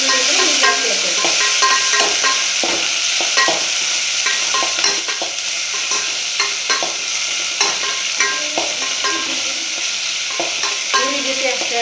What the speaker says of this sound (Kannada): ಇದು ಒಂದು 2 ನಿಮಿಷ ಈರುಳ್ಳಿ ಎಣ್ಣೆಯಲ್ಲಿ ಸ್ವಲ್ಪ ಮೆತ್ತಗಾಗಲಿ